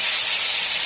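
Dog claw beans and chili peppers hit a hot wok and sizzle loudly and steadily, a dense hiss of frying with no voices.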